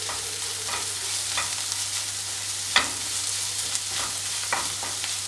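Masala spices for a potato curry sautéed and stirred in a pan, a continuous sizzle punctuated by periodic scraping stir strokes and one sharper clack midway, close and clear over a faint low hum.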